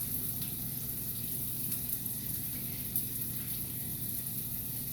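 Onion sizzling steadily in a pan while cooking down for corned beef and roasted cabbage, a constant soft frying hiss with no voices.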